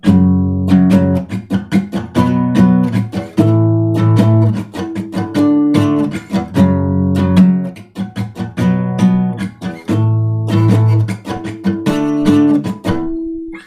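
Guitar power chords strummed in a steady down-up pattern, loud and close, shifting between a few chord positions with no voice over them.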